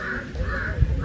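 A crow caws outdoors at a Tamil literary gathering, a faint, distant call under a steady hum of crowd and ambience, with no clear speech at that moment.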